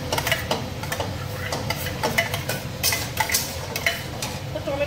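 Tomato puree goes into chicken curry in a pan, with a steady crackling sizzle and repeated scraping stirs and utensil clicks against the pan, no talking.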